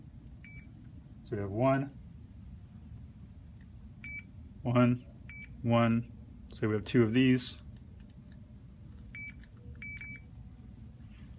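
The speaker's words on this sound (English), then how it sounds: "you heard the double beep because we scanned the item twice" Short, high electronic beeps from a barcode scanner sound a few times, including a quick double beep near the end, between stretches of someone talking.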